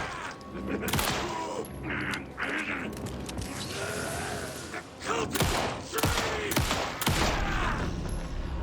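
Bursts of gunfire in Alan Wake 2, with dense rattling shots and clicking weapon mechanisms, loud and close and layered over game ambience, with no speech.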